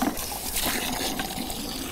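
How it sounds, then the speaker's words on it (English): Water runs into a bucket for a rinseless car wash outdoors in a parking lot, a brief, steady gushing and splashing fill heard close up with no talk over it. "So first thing is putting water in the bucket."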